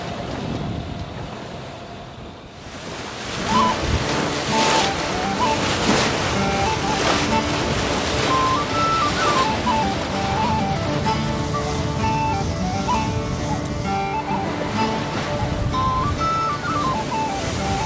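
Strong wind and rolling waves buffet a sailboat in Buzzards Bay, a steady loud roar of wind noise and water rushing against the hull, with a brief lull near the start.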